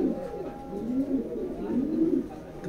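A red checker pair of racing pigeons coo softly and repeatedly at close range, low rolling calls with no other sounds around them.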